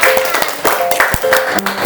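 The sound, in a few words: applause for a presenting group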